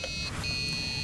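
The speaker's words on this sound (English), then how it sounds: "So that one's a right answer" A short electronic chime from an escape room game signals a correct answer, with steady high tones that hold and then rise briefly, all over a constant low background hum.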